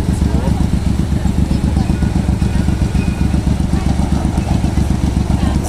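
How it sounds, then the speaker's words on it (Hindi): Sport motorcycle engine idling steadily and loud at a night street stop in Dubai's Jumeirah, a continuous low rumbling throb with faint background traffic and no talk. "क्या बाइक है भाई ये, स्पोर्ट बाइक।"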